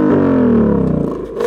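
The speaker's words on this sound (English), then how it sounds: "the fourth mode is quiet, which sounds like this." A 2020 Shelby GT500 exhaust in quiet mode gives a muted, smooth engine note that settles steadily lower, far softer than a full rev.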